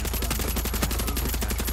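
Rapid turret machine gun fire in the video game Far Cry 6, a steady, dense stream of close, loud shots with an even rhythm throughout.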